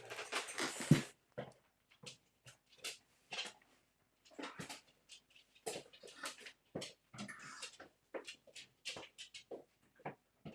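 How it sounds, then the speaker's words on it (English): A dog in an office gives quiet, intermittent whimpers and whines in short bursts, fairly faint, set against a hushed room with no clear talking. "the folly of having your dog in your office while you try to talk to Facebook"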